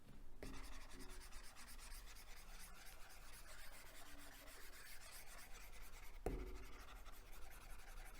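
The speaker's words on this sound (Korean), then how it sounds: "좀 지우겠습니다." Writing is erased from a classroom board with quiet, steady rubbing strokes in a continuous scrubbing rhythm, faint and close, with one sharp knock near the end.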